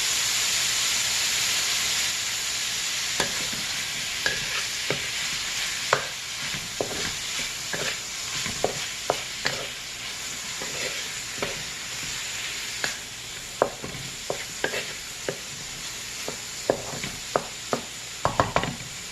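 Seafood fried rice fries in a pan with a constant close sizzle and hiss, punctuated by frequent scraping and tapping of a spatula stirring the rice, no voices.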